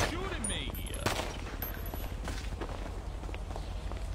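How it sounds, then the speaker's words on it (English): Gunshots ring out in GTA V NoPixel roleplay, scattered sharp cracks amid footsteps and game ambience, with a voice talking over them. "Stop shooting me! Why are you shooting me?"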